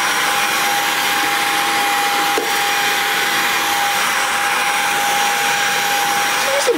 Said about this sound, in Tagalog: Vacuum ko lang kasi ang kalat-kalat na nila.